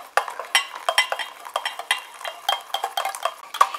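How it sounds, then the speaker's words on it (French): A utensil stirs oat milk and powders into an oil phase in a small bowl while making a homemade foot cream emulsion, giving a close, fairly quiet run of irregular scraping and clinking strokes with no talk. "j'incorpore mon lait d'avoine et mes poudres à ma phase huileuse tout en mélangeant"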